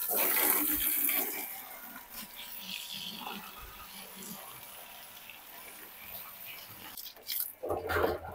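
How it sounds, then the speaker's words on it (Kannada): Tap water gushes steadily into an empty plastic drum on a rainy day, a loud rushing pour that eases slightly midway and then surges again with splashing near the end. "ನೀರು ಬರ್ತಾ ಇದೆ."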